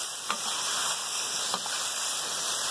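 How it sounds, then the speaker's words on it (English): Steady crackling sizzle of breaded chicken breast frying in hot oil, with a few sharper pops breaking through the continuous hiss. "Let it go sizzle pop, sizzle pop,"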